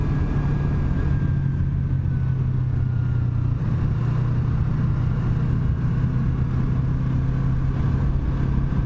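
A 2017 Yamaha YZF-R3 motorcycle engine runs at a steady, close-up idle, holding an even low drone for the whole stretch with no distinct revs.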